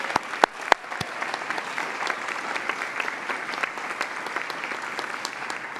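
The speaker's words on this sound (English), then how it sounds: "Let's give her another round of applause." An audience at a school district volunteer recognition event applauds, steady sustained clapping from a crowd filling the room, with a few sharp nearby claps standing out at the start.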